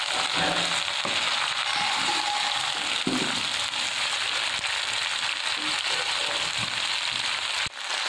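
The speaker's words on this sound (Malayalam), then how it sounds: "ഇതിലേക്ക് മാറ്റി വെച്ച കോളിഫ്ലവർ നമുക്കെടുത്ത് ഇട്ട് കൊടുക്കാം" Cauliflower pieces frying in a hot pan give a steady, dense sizzle that runs unbroken throughout, with a few faint clinks and soft stirring bumps underneath and no voices.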